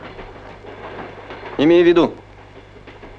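A passenger train carriage in motion gives a steady low rumble throughout, while a person briefly speaks over it partway through.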